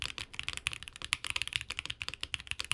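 Rapid, steady typing on a top-mounted Wind Studios Sin 65 mechanical keyboard, close and clear, with crisp, slightly marbly clacks in quick succession.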